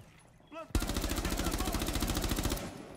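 Gunfire in Rainbow Six Siege: after a short voice-like sound, a loud, sustained automatic burst of rapid, evenly spaced shots runs for about two seconds, close and dominant.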